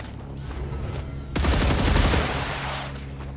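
Gunfire in the video game StarRupture: a quiet stretch, then a sudden dense burst of rapid shots and booms that carries on loudly, tailing off slightly at the end, with no talk.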